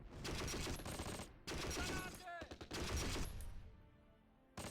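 Battle noise in the Close Combat video game as a Panther tank fires: loud bursts of gunfire in three clusters with short gaps, near and harsh, with no voices.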